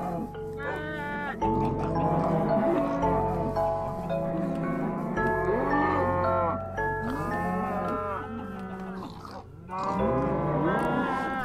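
Sheep bleat repeatedly in the Minecraft video game, overlapping wavering baas from several animals in quick succession, fairly loud and without talk.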